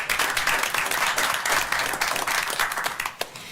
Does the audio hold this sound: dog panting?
no